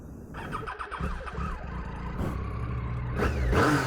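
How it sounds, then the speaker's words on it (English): A Triumph Tiger 800XC adventure motorcycle with a somewhat broken exhaust cranks briefly, then fires up and rises into a loud, close, rough idle that swells near the end, with no talking over it. "With the Triumph, you have to have the clutch pulled in, no matter what, to start it."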